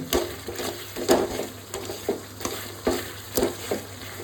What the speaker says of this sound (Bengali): সমস্ত কিছুগুলো ভালো করে নাড়বো।